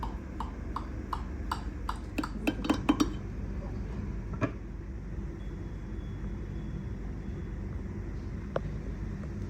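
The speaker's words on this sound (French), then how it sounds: "maintenant, je vais vous couper donc une part pour vous montrer le moelleux de ce gâteau aux pommes" A knife cuts a slice of Normandy apple tart on a plate. Several bright clinks of metal on the dish open the moment, followed by quieter scrapes and a last isolated tap.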